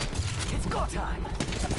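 Gunfire in a video game, a dense rattle of shots running steadily through the moment with a voice talking over it.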